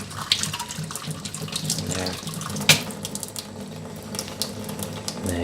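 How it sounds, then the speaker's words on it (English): Tap water runs steadily into a kitchen sink while freshly peeled hard-boiled eggs are rinsed under it, with a sharp clink partway through and no talking. "Run under a little water if you need to, until the shell gets real loose."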